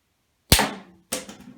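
PSE pistol crossbow shooting bronze armor-piercing rounds, two sharp snapping shots close by, about half a second apart, each with a brief ringing decay and no talk.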